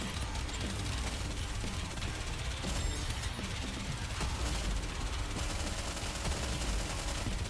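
Constant gunfire in the video game Goddess of Victory: Nikke, with dense, continuous rattling shots and mechanical clatter layered over a busy soundtrack, steady and loud throughout.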